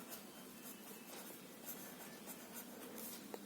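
A pen scratches steadily across paper while a maths solution is written out, a quiet, continuous close-up scribble with no talk.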